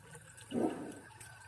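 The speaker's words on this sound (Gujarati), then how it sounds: "આ પારો નીચો થતો જાય છે એમ પાણી આવવાનું શરૂ થઈ ગયું છે" Water gushes briefly through a float valve into an automatic cattle drinking bowl in a cattle shed, one short, soft surge of flow amid quiet background.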